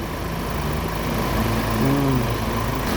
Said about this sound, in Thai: ผมจะรันเครื่องทิ้งไว้เลย เพื่อ จะเซตระบบเครื่องยนต์นะครับ